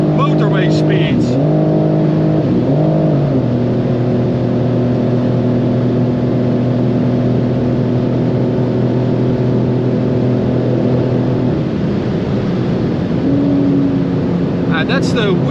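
Car floored at around 250, engine droning loud and steady under hard acceleration, with a gear change early on, a shift later, and a voice talking over it.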